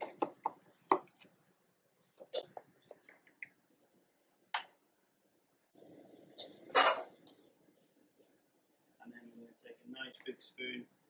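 A knife cuts through a crispy baked dish during a live cooking demo, giving scattered crunchy cracks and clicks, then denser crackling bursts as the crust gives way, close and fairly quiet.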